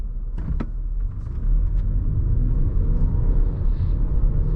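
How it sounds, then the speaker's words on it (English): A 2021 Toyota Highlander XSE AWD with an 8-speed automatic accelerating hard from a light, engine rumble rising and holding strong from the cabin after a couple of brief clicks. "we'll try a little bit of like a harder acceleration just to see, not flooring it, but we'll just try accelerating quickly"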